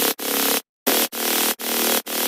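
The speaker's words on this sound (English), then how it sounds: "I also use a mid bass, and they are 2 layers and they sound like this." Two-layer mid bass synth in a dense, buzzy electronic tone, played as short repeated sustained hits with brief gaps and one longer pause, loud and alone.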